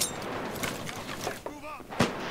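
Gunfire and a grenade blast in the video game America's Army: Proving Grounds, a muffled series of bursts ending in a stronger thump, mixed with game noise and faint voices.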